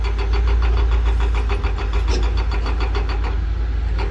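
Rapid, even hammering of a Sany excavator rock breaker on hard rock over a loud, rumbling diesel engine, the taps repeating steadily throughout.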